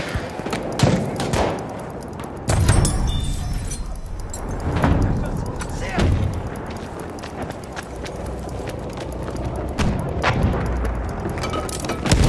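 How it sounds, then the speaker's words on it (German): A grenade is thrown in Battlefield 1 on the Amiens map, with dense battlefield noise: repeated booming blasts and gunfire stacked over continuous loud combat din, with voices shouting over it. "Ich werfe eine Granate."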